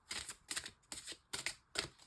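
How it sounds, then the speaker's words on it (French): Cards from an energy oracle deck being handled and drawn, giving five quick papery rustling bursts in an even rhythm, close and fairly soft, with no voices. "je vais prendre une dernière carte de l'oracle de l'énergie"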